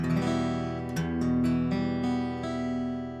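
An acoustic guitar minor chord strummed several times with a relaxed rhythm, ringing out between strokes, close and clear with no talking.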